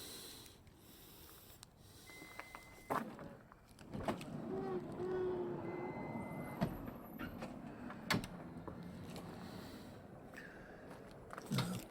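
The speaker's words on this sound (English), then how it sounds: "So just open these slide doors." Quiet mechanical clunks and a sliding rumble as the power sliding door of a 2007 Toyota Alphard minivan rolls open, with a few sharp knocks and faint background noise.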